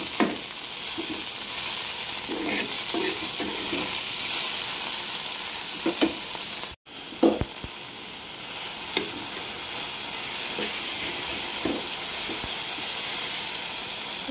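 Chopped tomatoes frying in a pan for dhaba-style paneer do pyaza, a steady hissing sizzle with occasional soft stirring knocks, broken by one brief gap.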